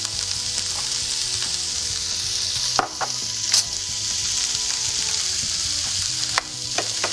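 Red and green bell peppers hitting hot oil over garlic and ginger, a loud, dense continuous sizzle with a few sharp clatters of a stirring utensil against the pan, close by and steady throughout.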